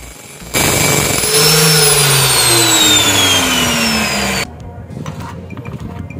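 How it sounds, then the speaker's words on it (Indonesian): An electric grinder and a drill start up and run loud and close while a bolt is worked into a tool. A steady high whine winds down slowly in pitch over several seconds, then cuts off, leaving quieter clatter. "kita hidupkan mesin gerindanya, dan ini kita hidupkan mesin bornya ya"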